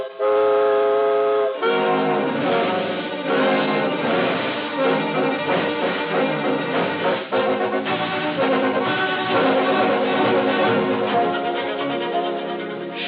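An old-time radio train sound effect: a tonal horn or whistle sounds first, then a steady chugging clatter as the train pulls away.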